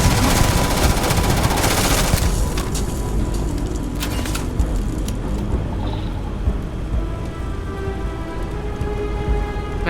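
Sustained rapid SMG fire in the space game Starfield, a dense, continuous rattle of bursts throughout with game ambience underneath and no pauses long enough to separate shots.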